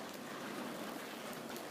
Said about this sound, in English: It is raining and I am dry standing here under the barn.